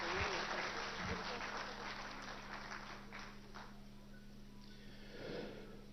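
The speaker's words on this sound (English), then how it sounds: "So please do once again give them a huge round of applause." Audience applause for dancers at a live event, a fairly faint, steady patter of clapping with a low hum underneath, tapering slightly before a small swell near the end.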